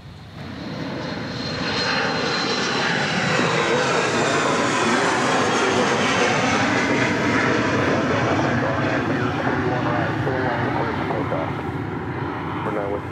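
A plane lands on runway 31 right at Dallas Love Field with a loud, sustained engine roar that swells early and stays strong through the landing, while air traffic radio chatter plays underneath.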